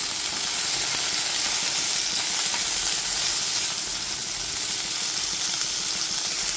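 Okra pieces fry in a pan over a low-to-medium gas flame as they are stirred, giving a constant loud hissing sizzle with faint scraping and no pauses.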